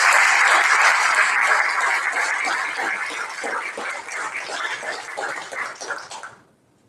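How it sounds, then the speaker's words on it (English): A congregation at a worship service applauds graduates with sustained, crowded clapping that slowly thins and then stops abruptly. "give everyone a big round of applause"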